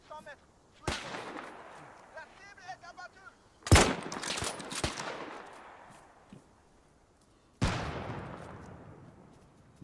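Gunfire in the military shooter Arma 3, with sharp loud shots and bursts echoing off into long tails, a rattle of rapid fire between them and another heavy blast near the end.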